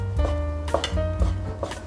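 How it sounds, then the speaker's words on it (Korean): A knife chops ingredients into small pieces for Korean pan-fried jeon, part of an assorted Chuseok holiday spread. About four crisp cutting knocks land at a steady pace over a sustained tonal background. "전을 부쳐야 하니까 작게 썰어주세요"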